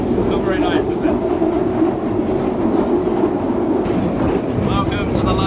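A London Underground train running, with a steady rumbling roar, rail clatter and squealing wheels, loud and close from inside the carriage, with no speech.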